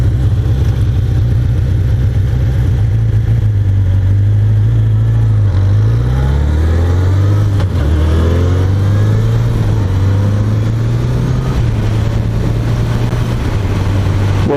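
A 1981 Honda CB750F motorcycle engine drones steadily and loudly while riding on a mountain road, its pitch climbing through each gear and dipping at the shifts, with wind noise throughout and no talking.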